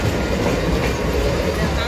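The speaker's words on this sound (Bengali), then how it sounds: "খুবই আস্তে আস্তে ট্রেন যাচ্ছে, ট্রেনের গতি অনেক স্লো হয়ে গেছে" A train passes slowly close by, a loud, dense, continuous rolling rumble of wheels on rails without a break.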